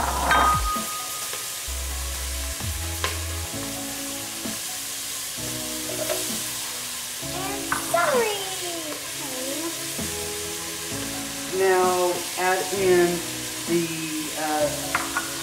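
Onion, carrots and celery frying in a pot over medium heat for tomato bisque: a steady, close sizzle with stirring scrapes throughout, and a voice briefly talking over it partway through.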